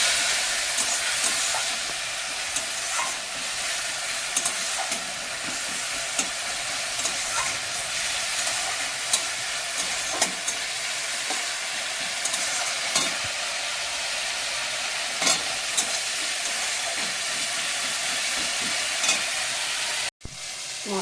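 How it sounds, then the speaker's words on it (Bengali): Spice paste loosened with a splash of water sizzles and hisses steadily in a pan while being stirred, a constant close frying crackle with occasional scraping clicks and a brief break near the end, no voices. "মশলাটা পুড়ে যাবে বলে একটু সামান্য জল দিলাম, দিয়ে মশলাটা কষিয়ে নেব।"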